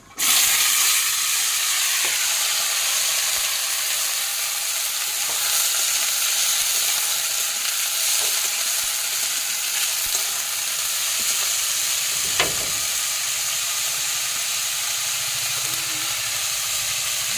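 Washed vegetables hit a hot pan after kalonji seeds have been tempered in oil, giving a loud, steady frying hiss that runs unbroken throughout, with a brief clatter near the end and no talking.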